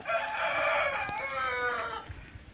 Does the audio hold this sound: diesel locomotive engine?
no